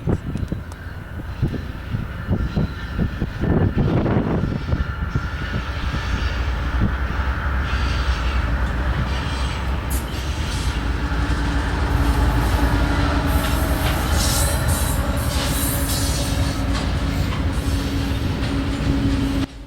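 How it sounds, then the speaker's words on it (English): A long ethanol freight train led by a GE locomotive rumbles steadily past at close range, with continuous heavy rolling noise, rail clatter, and a sustained engine drone throughout. "Next up was an ethanol train"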